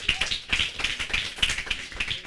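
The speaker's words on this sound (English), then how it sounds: "Clap for him, please." An audience at a talk claps steadily, a dense patter of many hands at moderate distance, continuing evenly without voices.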